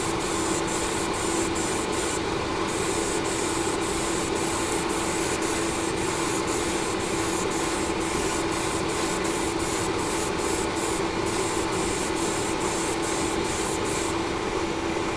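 Grey Vallejo surface primer is sprayed in a slow, even coat, a close, continuous hiss that holds steady throughout with faint regular clicks and no talking.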